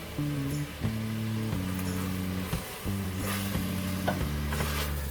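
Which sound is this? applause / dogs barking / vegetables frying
vegetables frying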